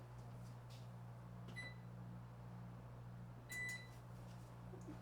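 Kitchen oven beeping as it begins preheating for cupcakes: a few short, thin electronic beeps in two brief clusters over a steady low appliance hum, with no talking.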